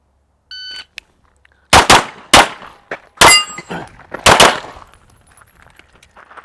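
Gunshots striking steel target plates during a shooting drill, several loud sharp cracks with ringing metallic clangs, spaced irregularly after a quiet start.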